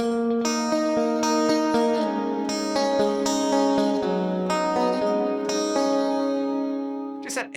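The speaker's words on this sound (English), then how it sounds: "there's this plinky little overdub you can hear on there" A clean, plinky electric guitar overdub played on a Tyler JTG picks out bright chiming notes in a steady melodic line, ringing close and clear before fading at the end.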